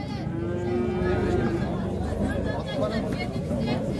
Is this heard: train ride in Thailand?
no